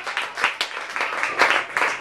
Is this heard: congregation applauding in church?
yes